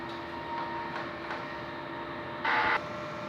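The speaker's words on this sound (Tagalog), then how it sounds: "Head clean." A DTF printer hums steadily while running a print head clean, with a constant mechanical whine, soft rhythmic ticks and a brief louder whirring burst near the end.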